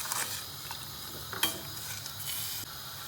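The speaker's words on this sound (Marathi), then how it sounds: "आता आपण एकदा हलवून घेऊयात" A spoon stirs a sweet potato mixture with jaggery, salt and crushed peanuts in a pan, giving soft scraping strokes over a faint sizzle, with a few light clinks and no talking.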